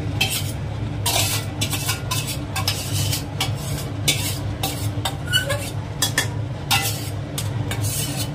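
Mutton added to a cooking pot for mutton kasha and stirred, with repeated metallic scrapes and clinks of a utensil against the pot over a low steady sizzle, close by.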